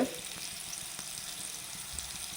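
Beetroot frying in coconut oil over a low flame, giving a steady soft sizzle with faint crackles throughout, fairly close and without talk.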